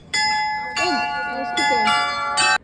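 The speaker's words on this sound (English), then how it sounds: "Cool but deafening bells." Loud bells ring in Germany in several strong strikes, each leaving a bright, lingering metallic tone, while voices murmur faintly beneath.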